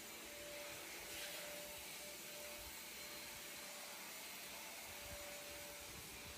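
A new vacuum cleaner runs steadily while cleaning a living-room floor at home, a constant whirring motor drone that stays at an even, moderate level throughout with no talking.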